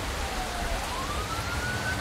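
An ambulance siren in a night driving video game, a continuous rising wail heard over steady engine and road rumble.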